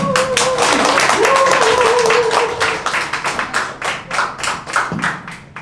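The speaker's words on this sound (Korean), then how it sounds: "환영의 박수 부탁드리겠습니다" Seminar audience gives welcoming applause for an arriving lecturer, brisk clapping that starts full, then thins into fewer, separate claps toward the end, with a voice over the start.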